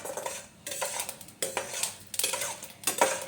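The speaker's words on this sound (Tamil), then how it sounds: "இப்போ ஒரு பேனில் 1 ஸ்பூன் மட்டும் ஆயில் ஊற்றிட்டு, ஆயில் சூடான அப்புறம் தாளிக்க வச்சுருந்த பொருள் எல்லாம் ஃபஸ்ட்டு ஆட் பண்ணிக்கலாம்." Spices for tempering dropped into about a spoonful of hot oil in a pan, with repeated close bursts of sizzling and metallic clatter separated by short quiet gaps.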